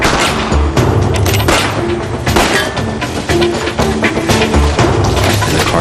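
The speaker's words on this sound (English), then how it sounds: "There was an exchange of gunfire." Several sharp gunshots crack in close succession during a carjacking in Washington, DC, amid booming impacts and a dense, noisy background, loud and chaotic.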